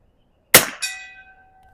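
A single Eley Biathlon round from a Marlin 25 rifle strikes a steel gong target with a sharp, loud clang, followed by a bright metallic ring that decays over about a second.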